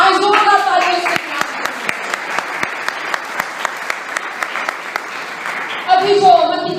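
A church congregation applauds during a Palm Sunday service, with steady dense clapping through the middle and speech briefly at the start and end.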